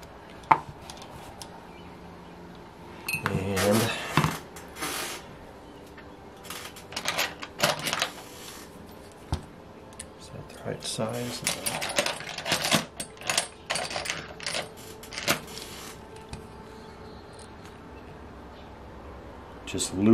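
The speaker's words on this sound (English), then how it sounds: "Just loosen that rocker arm up." Small metallic clicks, taps and scrapes come in scattered bursts as a tool loosens the rocker arm on a Saito FA-82a four-stroke model engine with a compression fault, close up and fairly quiet, with a voice at times.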